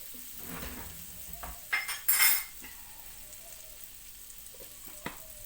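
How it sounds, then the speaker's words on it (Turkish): Butter melts in a pan with a faint, low sizzle, broken by a couple of sharp clinks of metal utensils against cookware close by, and no talking. "Şöyle tavanda yağımı eriteyim arkadaşlar"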